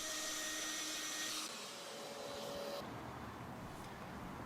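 A router cutting a wood dado in light, shallow passes, with a steady, faint whine and hiss that runs the whole time and drops slightly in pitch partway through, with nobody talking.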